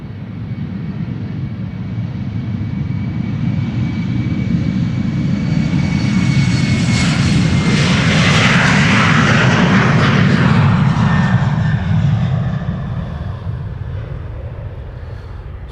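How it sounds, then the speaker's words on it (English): A KLM airliner bound for London City takes off from Amsterdam Schiphol Airport, its engines roaring up to full power in a loud, sustained rumble that swells to a peak and then begins to fade as the plane leaves. "the other airplane to London City, KLM flight 981, lining up here"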